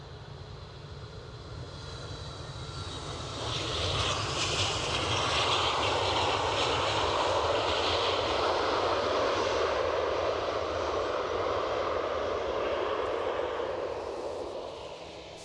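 An aircraft with Rolls-Royce RB211 jet engines roars past at Edinburgh airport. The engine noise swells after a few seconds, holds loud and broad, then begins to ease near the end, with no voices.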